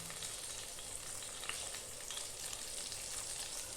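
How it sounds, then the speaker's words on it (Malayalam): Small onions sizzle steadily in hot oil, a dense, even frying hiss that runs throughout with no voices and only faint stirring. "അത് നന്നായി വഴറ്റി വരണം."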